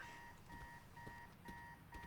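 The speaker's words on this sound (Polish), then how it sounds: "A, to nie jest telefon, tylko alarm." An alarm rings in Marvel's Spider-Man 2 as a steady pattern of identical electronic beeps about every half second, fairly faint against low background noise with no talking.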